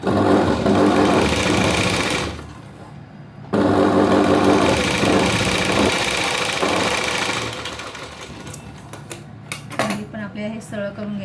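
A sewing machine runs steadily while stitching a V-neck blouse, its dense motor whir pausing briefly, then resuming before breaking into clattering bursts near the end, up close with no one speaking.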